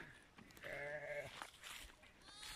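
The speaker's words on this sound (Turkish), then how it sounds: "koyun doğuruyor, koyun." A sheep bleats once in a long, wavering cry while giving birth on a farm, standing out clearly against quiet background noise.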